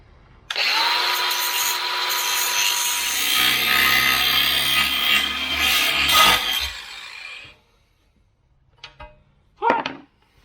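An angle grinder works a metal bumper bracket in a welding shop, a loud, close, continuous grinding roar lasting several seconds before cutting off, followed by a couple of short clanks.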